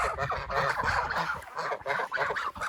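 Several village geese in rural Tatarstan honk loudly and repeatedly, close by, their harsh calls overlapping in a noisy flock chorus.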